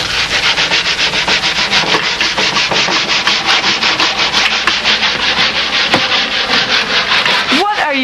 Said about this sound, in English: I'm sanding this chest.